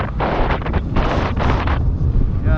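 Strong wind at a low-tide shore buffets the microphone in loud, roaring gusts, rising and falling without a break.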